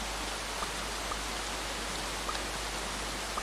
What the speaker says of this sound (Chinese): 动不动就下雨